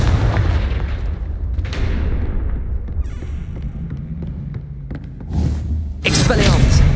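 Confringo explosive spell cast in Hogwarts Legacy, sharp booming bursts with crackling tails over a rumbling game soundscape, one near the start and heavy blasts toward the end.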